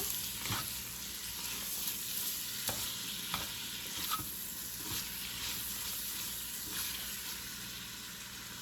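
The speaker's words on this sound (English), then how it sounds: "toss to coat in the butter" Chicken tossed in melted butter in a pan, a steady sizzle with repeated scraping and stirring knocks at an even rhythm, close and moderately loud.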